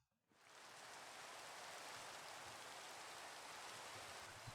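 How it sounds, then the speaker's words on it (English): Steady rain hisses evenly in Minecraft Java 1.17.1 with shaders, a dense broadband wash that swells in after a brief quiet start and holds constant, with no voices. "Let's set the weather to rain."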